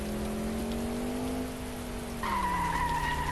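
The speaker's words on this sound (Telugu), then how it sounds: "వెళ్తున్నప్పుడు వర్షం పడాలా తగ్గిపోతులేండి" Rain falls in the driving video game Indian Theft Auto Simulator as a steady hiss, with a car engine droning beneath it and its pitch shifting partway through.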